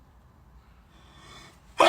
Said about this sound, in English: I've just sneezed about 6 times in a row.